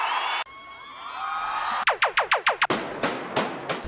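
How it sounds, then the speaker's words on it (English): Crowd noise sample from a Speed Garage drum pack: a cheering, whooping crowd cut abruptly into a series of rapid repeated rising swoops, then another burst of crowd cheer. "crowd noise"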